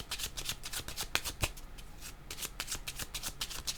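A deck of tarot cards being shuffled close by, with a steady run of quick riffling flutters and soft slaps that repeat for several seconds without talk.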